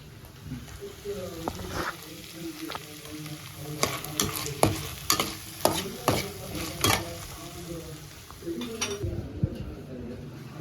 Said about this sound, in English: deep fry the gobi until golden brown